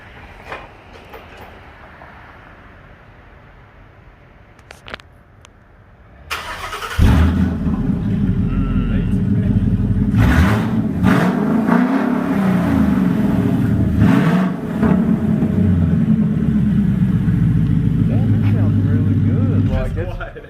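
An S550 Ford Mustang engine starts after a quiet stretch and settles into a loud, deep, rumbling exhaust idle with a few revs, close up, through headers and true dual converters.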